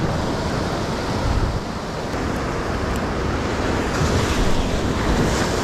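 Loud, continuous rush of waves close by, mixed with strong wind noise against the microphone, unbroken for the whole stretch.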